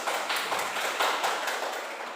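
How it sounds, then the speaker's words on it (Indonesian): Classroom applause during a micro-teaching lesson, a steady burst of many hands clapping close by and fairly loud, continuous for a couple of seconds with no talk over it. "Tepuk aplaus dulu."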